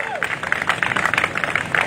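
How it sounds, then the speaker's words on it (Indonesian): Church congregation claps and cheers together during a worship service, a dense steady patter of hands with crowd voices mixed in, lasting the whole moment. "Tepuk tangan untuk Tuhan Yesus."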